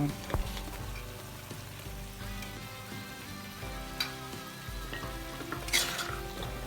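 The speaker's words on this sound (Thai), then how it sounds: "ผัดให้ตัวมะเขือพวงกับมะเขือสุกและนิ่มนะค" Thai eggplants and pea eggplants sizzle and crackle in a hot pan while being stirred, with occasional scraping and clinks of a utensil, close up.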